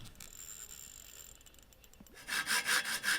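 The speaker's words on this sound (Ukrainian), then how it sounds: "Відріжемо сантиметр трубки на 10." A saw cuts through brass tube, rasping back and forth in quick, even strokes, close and fairly loud, after a quieter stretch of faint handling noise.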